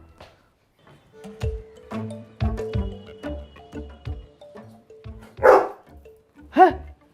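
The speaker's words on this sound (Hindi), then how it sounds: "है ये क्या? कुत्ता?" A dog inside a rented home gives two sharp, loud barks near the end, after a run of rhythmic background sounds from a comedy sketch.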